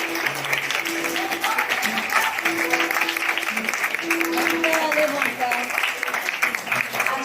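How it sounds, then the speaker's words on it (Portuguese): Audience applause at a school event, steady dense clapping throughout with voices talking and calling over it and crowd murmur beneath. "palmas para ela"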